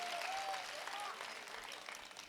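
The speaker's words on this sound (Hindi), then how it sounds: "बजाओ तालियां" Faint, brief clapping from the audience at a Hindi humorous poetry gathering (kavi sammelan), a soft even patter that tapers off slightly.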